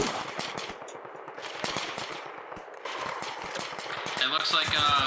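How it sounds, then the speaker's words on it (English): Machine gun fire in the video game ArmA Reforger, heard as rapid bursts of gunshots, some distant and some nearer, under an ongoing stream of radio-style voices talking. "There's machine gun fire coming from the ridge southeast"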